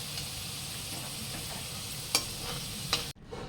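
Potatoes frying in refined oil in a wok give off a steady, close sizzle with a few sharp ticks, then the sound cuts off abruptly near the end.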